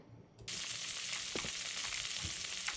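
Food frying in a pan in the video game Adios, a steady broadband sizzle that starts abruptly and continues loud and close, with a few soft clinks and knocks beneath it.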